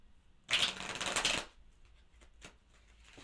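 A deck of tarot cards is riffle-shuffled close by in one quick burst of fluttering clicks, followed by a few soft taps as the cards settle.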